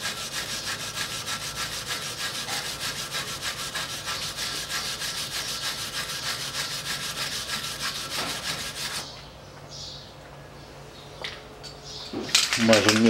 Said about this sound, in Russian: Берем щетку по металлу, немножко чистим посадочно.